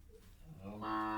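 Cow on a farm where pregnant cows are kept for sale, letting out a single close, low moo that swells and grows louder toward the end, with no voices.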